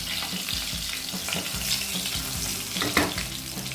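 Pieces of rohu fish fry in hot oil with a steady, close crackling sizzle, and the occasional clink of a stirring utensil sounds over it.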